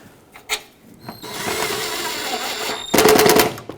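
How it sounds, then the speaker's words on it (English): Power tool tightening a bolt on the plastic headlight bracket of a 2001-2004 Toyota Tacoma, a steady whirring run of about two seconds followed by a louder, harsher burst near the end. "Tighten it back up, not too much though, because you don't want to crack the plastic bracket."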